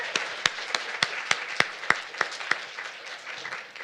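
Sparse, slowing claps ring out at a poetry reading, a handful of sharp individual hand claps spaced evenly over a soft room background as applause for four poets tapers off.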